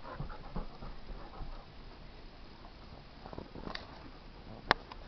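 Dog panting, fast and breathy, at a low steady level through a noisy scene with one sharp brief click near the end.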